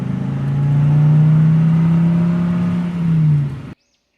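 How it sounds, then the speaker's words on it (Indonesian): A cartoon car pulls up as a new arrival, its steady mid-pitched engine hum swelling slightly before cutting off abruptly into silence, heard alone and close. "Akhirnya, mobil baru saya sudah sampai."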